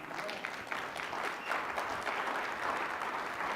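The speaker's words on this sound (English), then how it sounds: "That deserves at least a round of applause." Dense audience applause fills the whole stretch at a business marketing presentation, a steady wash of many hands clapping at moderate distance with no break.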